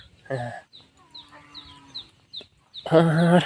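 A Thai game rooster clucks and squawks close by with short, sharp repeated calls, followed by a louder drawn-out squawk at the end.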